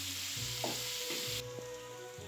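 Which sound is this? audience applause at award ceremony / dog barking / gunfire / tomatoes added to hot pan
tomatoes added to hot pan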